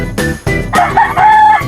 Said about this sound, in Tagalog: Napakagandang manok po.